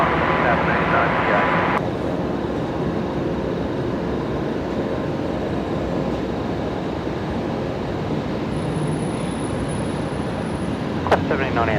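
A Qantas airliner in from Melbourne on short final to land at Brisbane, a constant heavy jet rumble and roar, fairly close and loud throughout, with a brief higher hiss early on.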